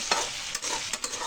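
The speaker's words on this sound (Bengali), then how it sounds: "এই যে আলু আর সিম ভাজা হয়ে গেছে" Potatoes and flat beans fry in a pan, a steady close sizzle broken by a few sharp scraping stirs, with no voices.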